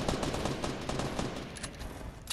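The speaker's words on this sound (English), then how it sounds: "Somebody's shooting right over here." Rapid gunfire from a Fortnite match rattles in a dense, continuous burst of shots, loud and unbroken throughout with no talking over it.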